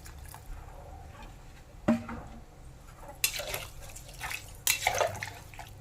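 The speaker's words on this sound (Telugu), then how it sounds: "వాటర్ యాడ్ చేస్తున్నాను" Water is poured into a pot of dal with fenugreek-leaf-style seasoning, cumin and rock salt, coming in a few quiet splashing bursts with drips and gentle liquid sounds between.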